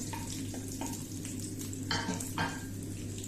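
Grated coconut and sliced onions fry in a hot pan for a Kerala erissery, giving a steady close sizzle broken by a couple of scraping stirs of a spoon against the metal, with no voices.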